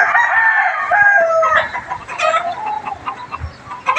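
A rooster crows in long drawn-out calls up close, followed by chickens clucking and short squawks on a windy farm, loud and unaccompanied by voices.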